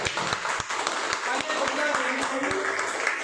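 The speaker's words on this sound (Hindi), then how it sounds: "एक बार मैं चाहूंगा आपके लिए अपने लिए बहुत जोरदार तालियां" Loud applause from attendees at a business opportunity presentation meeting, a steady dense clatter of many hands with a few sharper claps standing out, lasting the whole stretch.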